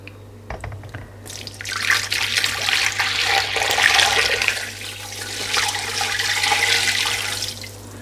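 A steady stream of water pours and splashes into a pot of whole spices, fennel seeds and salt for chicken pilau, rushing fairly loudly over a low background hum.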